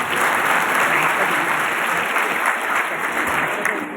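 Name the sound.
audience applause welcoming a guest at a congress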